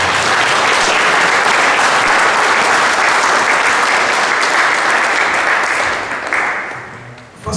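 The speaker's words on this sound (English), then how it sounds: "Can you give a Lord a big applause?" A church congregation breaks into loud, sustained applause, a dense wash of clapping that holds for around six seconds and then fades out.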